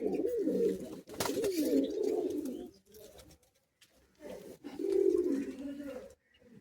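Pigeons coo in a loft at Bagnan, with deep, rolling throaty calls in bursts close by and short pauses between them, while someone talks over parts of it.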